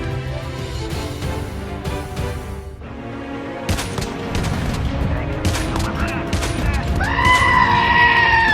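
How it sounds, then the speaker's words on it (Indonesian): Enemy gunfire in the Call of Duty Mobile battle royale game, bursts of shots crackling close and loud amid game effects, with a voice talking over them. "Jika kalian terkena tembakan musuh seperti ini"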